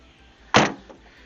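A single short thump as the top of a Ford Expedition SUV's rear door unlatches and swings open, followed by a faint click, otherwise quiet.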